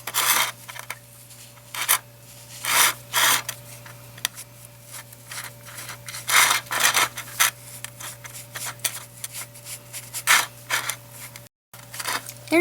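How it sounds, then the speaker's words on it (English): A felt tip pen scratches in short, rubbing strokes over a design on a small craft bone, close and fairly quiet, in bursts separated by brief pauses, with a steady low hum behind. "I will probably go back over it with a felt tip pen again"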